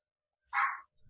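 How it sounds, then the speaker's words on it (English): A single short bark from a dog indoors, fairly close and moderately loud, followed by a faint low rustle. "Excuse the dogs."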